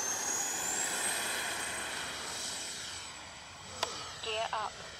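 A Flyfans SU-27 64mm twin-jet RC fighter on its maiden flight gives a steady electric-ducted-fan whine that climbs in pitch and holds, followed by a brief voice near the end.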